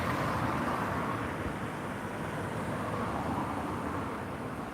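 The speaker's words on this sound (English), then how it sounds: "That's the sound of the McDonald's drive-through." Steady broadband outdoor rumble at a McDonald's drive-through beside a roundabout at night, a continuous wash of idling engine and road noise with no clear events, moderately loud throughout.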